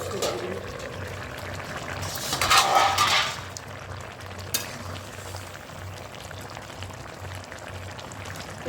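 Vegetables for shukto boil in a covered pot, with a short surge of bubbling and watery sloshing partway through, then a low, steady simmer on the stove.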